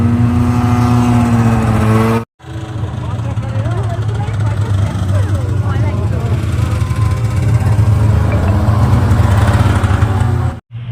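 Motorbike engine droning steadily and loudly through a ride across snow in Gulmarg, with wind buffeting and a voice talking over it; the sound drops out briefly twice.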